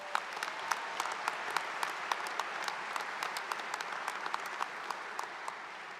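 Crowd at a high school graduation ceremony applauds the graduating class, a continuous even spread of many hands clapping at moderate distance, with scattered louder individual claps.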